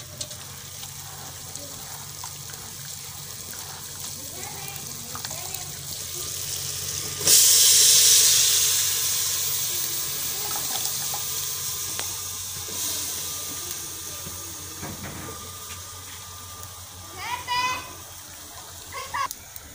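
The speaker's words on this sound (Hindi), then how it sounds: "मैं गोभी धोती हूँ," Cauliflower being washed under a running kitchen tap: a steady broadband rush of flowing water starts abruptly partway through and continues, with faint kitchen clatter and a voice talking before and after.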